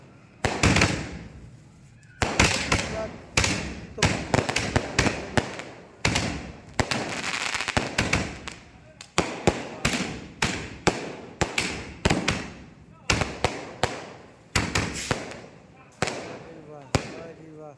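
Rapid firecrackers burst in a long irregular string in a village, celebrating a new Mahindra Scorpio, sharp loud cracks and pops crowding one another, with voices talking and shouting underneath.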